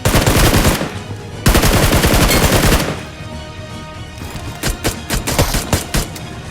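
Rapid automatic gunfire rattles out in loud sustained bursts during a battle royale video game fight, with a short lull before sharper scattered volleys of shots.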